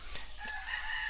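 Faint rooster crowing in the Bali countryside: a brief, thin call heard far off in a quiet background, alone without talk.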